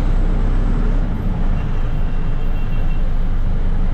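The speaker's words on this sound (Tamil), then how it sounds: "வீக்கெண்டில் வந்தாலே இது ஒரு பிரச்சனை தாங்க, டிராஃபிக்." Weekend road traffic surrounds a moving bus on the Chennai to Dindigul route, a loud continuous roadway roar and engine rumble with no pauses.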